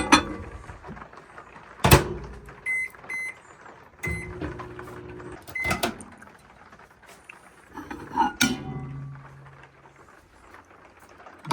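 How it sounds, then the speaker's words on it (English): A microwave door thumps shut, keypad beeps sound, and the oven runs with a low hum between clicks and another door thud, melting sugar and peanut butter. "I'm going to throw it in the microwave."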